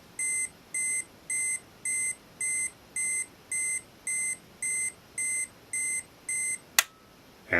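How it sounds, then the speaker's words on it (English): A steady series of short, evenly spaced electronic beeps from an Olympus XA 35mm film camera self-timer, about a dozen in a row, followed by a sharp click and a brief tone. "we can see this light flashing and it's beeping"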